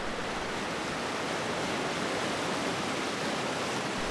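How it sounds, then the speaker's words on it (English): A creek's rushing water roars as a steady, dense broadband wash, loud and unbroken throughout, with no voices or other sounds. "Etherington Creek was nice and quiet, though. Well, except for the rushing water."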